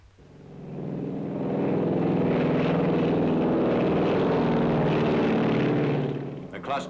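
B-25 bomber flying over Edgewood Arsenal during incendiary cluster bomb tests, a propeller engine drone that rises to a loud sustained roar and fades near the end.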